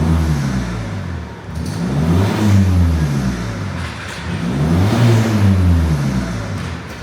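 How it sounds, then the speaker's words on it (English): A Ford Focus ST diesel engine with a standard back box revs up twice, each rise swelling and falling away, close by and fairly loud with a plain, moderate exhaust note. "there's also a little bit of noise there now with standard back box"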